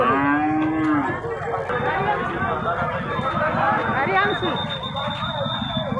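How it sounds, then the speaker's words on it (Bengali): A cow at a busy cattle market lows loudly and close, with a long drawn-out moo rising over a crowd of chatter and voices that continues throughout. "2 দাঁতের গরু।"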